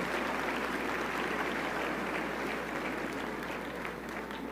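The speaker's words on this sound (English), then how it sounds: "So please clap for yourselves." Graduating high school class at a technical high school commencement applauds themselves, a broad, continuous wash of crowd clapping at moderate distance, steady and unbroken throughout.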